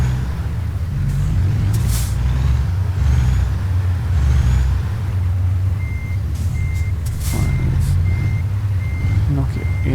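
In American Truck Simulator, a truck idles and maneuvers with a low engine rumble, short air-brake hisses and a repeating reversing beeper that starts midway, while someone speaks faintly in places.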